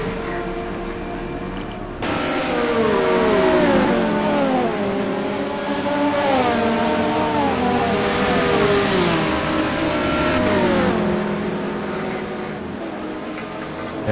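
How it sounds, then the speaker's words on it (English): Race cars in a GRC Trophy round stream past on track, their engines rising and falling in overlapping pitch sweeps as each car passes, loud and continuous, with no talk over them. "As the cars come streaming by for the first time here, several good battles out on track"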